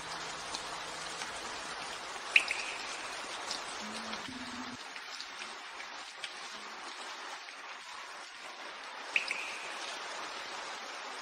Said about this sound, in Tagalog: Umuulan ng malakas